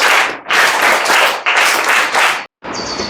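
Loud, close audience clapping at a Teachers' Day school event as a student speaker is called up, coming in strong surging bursts with brief dips between them and a short silent break near the end before it resumes.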